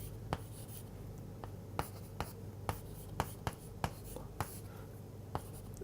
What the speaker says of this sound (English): I will just write down that expression again.